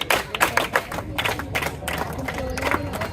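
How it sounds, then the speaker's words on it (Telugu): A crowd claps in brisk bursts with scattered cheering at a public gathering, loud and close, the claps coming in quick rhythmic groups that fade into a murmur. "గట్టిగా అందరూ చప్పట్లు కొట్టండి"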